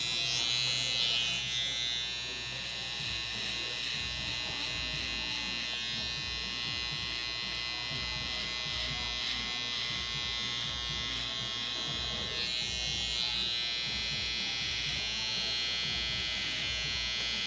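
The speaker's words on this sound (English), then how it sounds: "I come in like this and hit a little clipper over comb" Electric hair clippers buzz continuously and steadily while trimming a big beard clipper-over-comb at a barber, a close, even drone with slight shifts in pitch as the blade moves.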